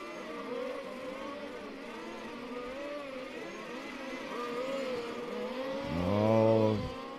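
Race car engines drone and whine around the track at Bad Breisig during the 2025 Race Car Series finale, pitch rising and falling, before one car roars loudly past close by near the end.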